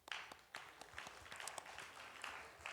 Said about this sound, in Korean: 감사하다고 또 위로의 박수 전하도록 하겠습니다